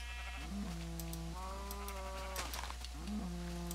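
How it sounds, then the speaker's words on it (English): A sheep bleats nearby in several long, wavering calls with short pauses between them, over a low steady hum. "Oh, a sheep getting out."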